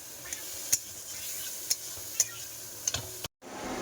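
Curry frying in a pan with chili powder and cumin, a soft steady sizzle broken by several sharp clicks and taps of a spoon stirring against the pot, fairly quiet and without speech.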